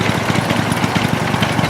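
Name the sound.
vintage diesel engine idling at railway show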